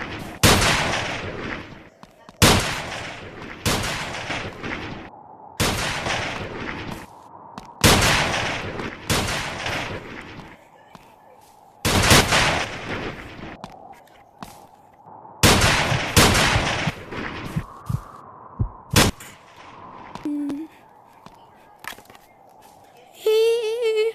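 Loud gunshots from a PvP shooter game in Monkey Labs ring out as repeated sharp blasts with brief echoing tails, spaced a second or two apart, and short clicks come near the end.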